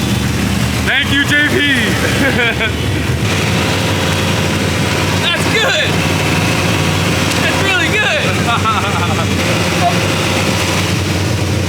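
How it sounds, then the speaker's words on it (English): A BMW E46 fitted with a swapped LS3 V8 idles steadily on first start-up, with a loud, continuous engine rumble running beneath people talking throughout. "Man, the engine sounds awesome."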